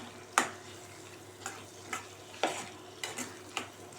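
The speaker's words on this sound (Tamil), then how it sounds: "சேர்த்து நல்லா கலந்து விட்டுக்கலாம்." Mango pachadi simmers in a pan as chili powder is stirred in, a soft bubbling sizzle punctuated by several distinct scraping strokes of the spoon, spaced irregularly and heard up close without talk.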